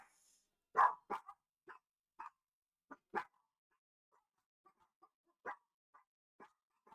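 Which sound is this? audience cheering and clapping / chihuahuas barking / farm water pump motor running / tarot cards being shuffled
chihuahuas barking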